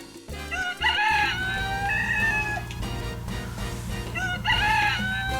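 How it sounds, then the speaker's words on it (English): A rooster crows outdoors at night in the Mexican desert, two loud, drawn-out crows a few seconds apart over a steady low hum. "Oh, it's a rooster outside."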